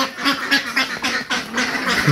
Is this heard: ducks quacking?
yes